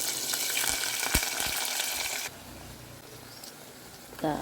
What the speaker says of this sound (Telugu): నూనెలో కరివేపాకు కూడా నూనెలో ఫ్రై అయితే కమ్మటి స్మెల్ వస్తుంది